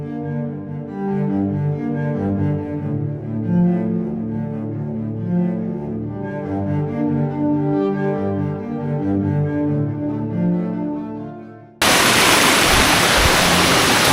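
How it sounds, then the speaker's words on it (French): A steady droning tone gives way abruptly to the loud, close, even rush of waterfalls on a jungle trek in Khao Sok, Thailand, which carries on to the end. "C'est un petit trek dans les cascades."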